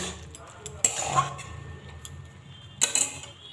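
Soaked mustard powder paste is stirred into cooked spinach in a pan, with two distinct metallic clinks of the spoon and faint scraping between them.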